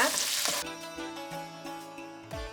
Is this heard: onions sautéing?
yes